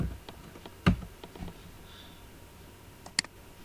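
Keystrokes on a computer keyboard while a PHP login page is coded, a few scattered clicks with one sharper tap near the start and a small cluster later, quiet and close with no talking.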